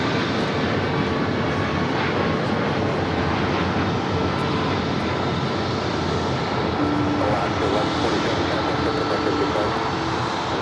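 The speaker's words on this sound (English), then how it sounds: "I have a Queen arriving here on the south side of Korean Air Cargo, 747." Korean Air Cargo Boeing 747 arriving at LAX, a loud continuous jet roar that holds steady throughout, with faint tonal engine whine rising near the end.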